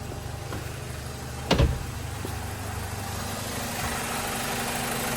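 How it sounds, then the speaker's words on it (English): A 2006 BMW E90 engine idles smoothly after an oil and filter change, a steady low hum recorded close up, with one brief thump near the middle and no talking. "Car is running smoothly"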